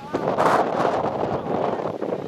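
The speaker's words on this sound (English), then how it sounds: "Still windy as all get up out here." Strong wind gusting across a winding mountain road overlook in North Carolina, a steady loud rush buffeting the microphone throughout with brief swells.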